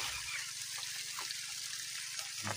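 Borewell water pouring down in a village setting, a continuous rushing splash of steady moderate loudness throughout the short span.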